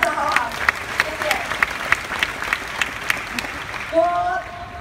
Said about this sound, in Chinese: 给我的父母一个最热烈的掌声好不好？